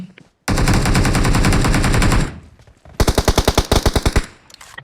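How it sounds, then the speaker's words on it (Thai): Loud bursts of rapid automatic gunfire in PUBG Mobile, one long rattling stream and then a shorter run of distinct shots, close and harsh with brief pauses. "ใครมายิงปืนอยู่แถวนี้"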